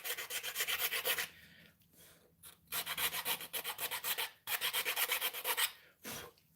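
A rasp files a piece of wood in quick, repeated rough strokes, coming in bursts with short pauses between them, close and dry, with no talking.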